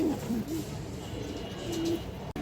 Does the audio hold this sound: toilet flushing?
no